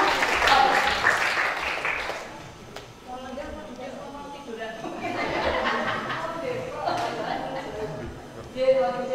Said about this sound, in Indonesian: Sekali lagi boleh tepuk tangan untuk Ibu Kepala Taman Budaya Yogyakarta